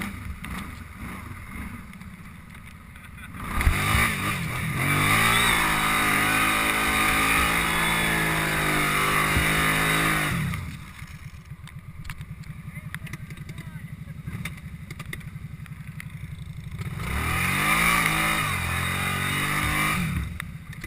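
ATV engines rev as riders pull away on a lake trail in Alaska, a loud rising motor drone that swells, fades, then climbs again, with someone talking over it.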